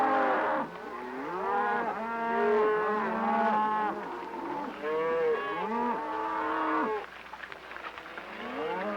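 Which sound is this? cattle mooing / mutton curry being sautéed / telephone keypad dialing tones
cattle mooing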